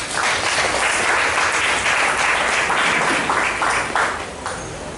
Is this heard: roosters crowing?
no